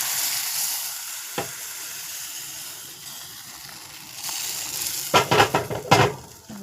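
Dough sizzles in hot oil in a kadai, a steady frying hiss broken by a single sharp knock and then a burst of clattering scrapes as the pan is stirred near the end.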